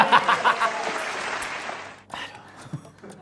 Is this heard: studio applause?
yes